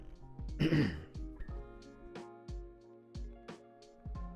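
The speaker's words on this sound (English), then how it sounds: "so I was just coughing to myself there." A single short throat-clearing cough near the start, then quiet room sound with faint clicks and soft movements.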